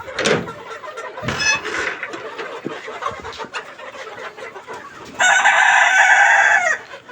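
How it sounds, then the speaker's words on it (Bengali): Chickens cluck and chatter inside the No. 1 shed of a poultry farm and hatchery. Scattered squawks come first, then a loud, sustained rooster crow rings out near the end, close by. "অনেক সুন্দর মুরগিগুলা।"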